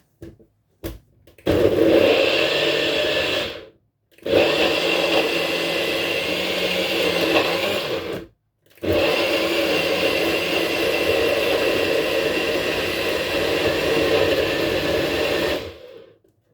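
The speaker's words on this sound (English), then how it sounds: "And we'll blend it and we'll see what happens." A blender whirs loudly blending vinegar and other ingredients in long continuous bursts, stopping briefly twice between runs, the motor's steady roar filling the space.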